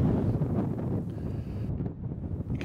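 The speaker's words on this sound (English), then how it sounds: "You can see just how windy conditions are out there today" Strong wind at an outdoor rugby union match buffets the microphone with a steady low roar and rumble throughout.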